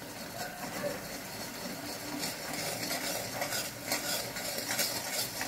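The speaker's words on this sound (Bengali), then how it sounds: "এটা নাড়তে হবে, লেগে যাচ্ছে না।" Sugar syrup for a Bengali jibhe gaja sweet is stirred in a pan, a steady close scraping and swishing over a faint bubbling sizzle throughout.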